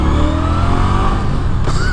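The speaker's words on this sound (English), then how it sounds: "So here's a car coming, basically." A car drives past close by, a loud engine drone with shifting pitch, heard from the roadside where a 2016 Victory Octane rider waits.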